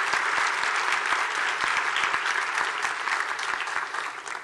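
Seminar audience applauds at an inaugural session, sustained full clapping from a sizeable crowd with a few sharp claps standing out, gradually easing off.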